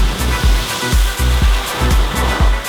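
A Mini Countryman driving through water on a wet test track: a loud, continuous spray and rushing roar with rhythmic low thumps about every half second, no talking.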